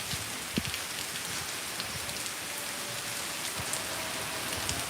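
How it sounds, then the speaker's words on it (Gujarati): Heavy rain pours steadily onto a surface, a dense continuous hiss with occasional louder drops and splats nearby, no voices present. "પાણી પાણી થઈ ગયું વરસાદ જોઈ ભાઈ જોવો તો પડે"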